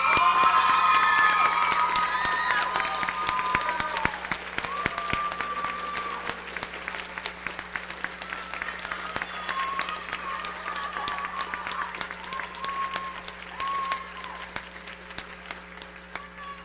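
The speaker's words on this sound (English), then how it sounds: "stand up and give them a round of applause" A standing audience in a high school auditorium applauds newly enlisted military recruits at an enlistment ceremony, a long steady wash of clapping and a few cheers that thins gradually toward the end.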